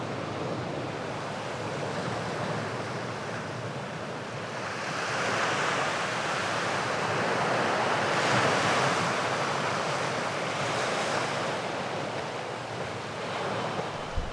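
Ocean surf at Praia Café, a white-sand beach on São Tomé, rolls in as a continuous wash that swells in the middle and eases again, with wind noise buffeting the microphone.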